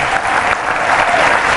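Audience in a room at a Facing Race 2010 event applauding for teachers, a loud, dense burst of clapping filling the space throughout.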